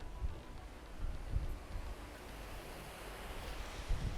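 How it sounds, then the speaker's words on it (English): Ocean surf rolls and washes steadily onto the shore beside an exclusive Florida oceanfront home, a broad continuous roar with wind buffeting the microphone and occasional low thumps. "just listen to those waves crash"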